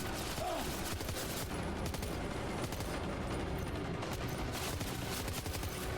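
A turret fires in Death Stranding 2 with sustained, loud rapid bursts of automatic gunfire that run steadily throughout, without talk.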